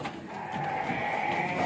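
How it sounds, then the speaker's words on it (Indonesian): Goats bleat at a village livestock sale, a wavering nasal call that rises and holds at moderate volume over faint background noise. "Dan ada kambing 2 ekor dengan harga"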